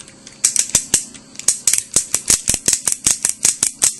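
Plastic ratchet joints on a Transformers Animated Voyager Class Lugnut toy are worked back and forth, producing a quick, evenly spaced series of sharp, close clicks.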